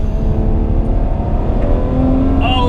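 Ferrari 812 Superfast V12 with a twin-clutch gearbox on the Fiorano track, a loud close engine roar holding steady under hard acceleration with a rising tone near the end, heard alone.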